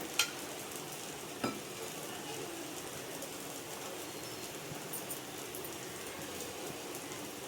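Oil sizzles steadily under a tomato dosa frying on a hot pan, a soft continuous crackling hiss with a couple of brief clicks from the utensil.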